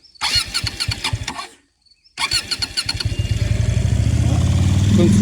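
A Qjmotor SRV12 motorcycle engine cranks in short, loud bursts, goes quiet for a moment, then cranks again and catches, settling into a steady, close idle.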